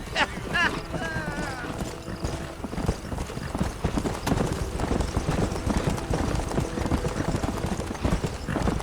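Horse hooves clip-clop in a steady trotting rhythm in the video game Red Dead Redemption, near and continuous across the scene, with a brief whinny early on and voices talking over them.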